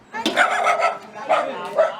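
Pet dog, a puppy, letting out a few short barks and yips close by in a home setting, with a brief pause between bursts.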